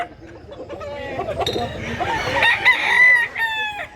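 Several roosters crow loudly and close together at a crowded gamefowl market in Mantalungon, Barili, Cebu, overlapping with clucking and a busy hum of people talking in the background.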